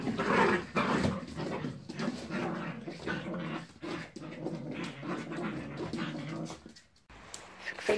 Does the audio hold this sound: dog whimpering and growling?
yes